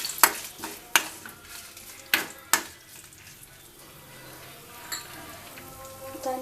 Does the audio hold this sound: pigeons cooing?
no